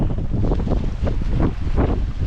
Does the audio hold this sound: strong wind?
yes